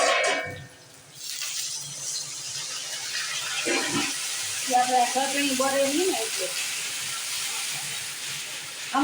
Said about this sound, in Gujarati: હવે થોડુંક જ પાણી આમાં